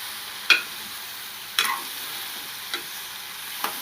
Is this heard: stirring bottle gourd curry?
yes